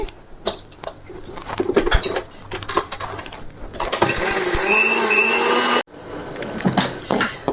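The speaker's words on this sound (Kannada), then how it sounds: "ಮಿಕ್ಸರ್ಗೆ ಹಾಕಿ ಸ್ಮೂತ್ ಪೇಸ್ಟ್ ಮಾಡ್ಕೊಂಡಿದ್ದೀನಿ" A mixer grinder blends ghee-roasted cumin and pepper spices into a smooth paste for rasam. Its loud, steady whirring roar lasts about two seconds, with clattering jar and utensil handling before and after.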